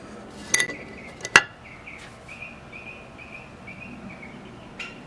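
Metal bicycle repair wrenches, including a size 10, clink sharply a couple of times as they are handled, followed by faint light rattles in a quiet room.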